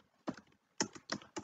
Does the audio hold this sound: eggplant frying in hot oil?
no